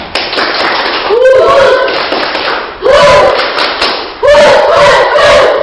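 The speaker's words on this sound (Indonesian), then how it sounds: "beri tepuk tangan untuk Sandra" Students clap for a classmate in a classroom, short bursts of loud close hand claps coming in waves, with voices calling out between and over them.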